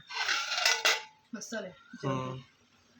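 Dishes and cutlery clink during a home meal of dal, a few sharp metallic taps and scrapes at close range, with a voice talking between them.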